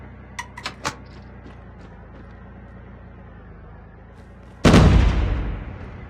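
Call of Duty Mobile battle royale combat: a few faint clicks and taps come first, then one loud close blast of gunfire that booms and slowly fades over a steady low hum, with no voices.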